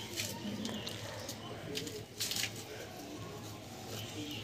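A red kat pigeon coos softly at close range, a low murmuring tone repeating over a steady hum of room noise, with faint scattered clicks.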